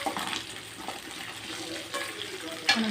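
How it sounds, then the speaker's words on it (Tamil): Garlic sizzles and crackles in a pan as it is sautéed for tomato chutney, a soft, continuous frying hiss with occasional stirring scrapes, close and moderately quiet. "பூண்டு இது எல்லாமே வணக்கிடலாம்."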